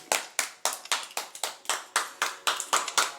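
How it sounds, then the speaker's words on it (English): Congregation applause at a church service: about a dozen sharp, evenly spaced claps in a steady rhythmic beat, close and clear with no talk over them. "A round of applause for Jesus"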